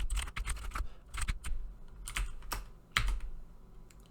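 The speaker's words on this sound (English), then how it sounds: "So we're just going to type this out quickly." Code is typed on a computer keyboard in quick, uneven bursts of clicky keystrokes with short pauses between them, close up and with no voices.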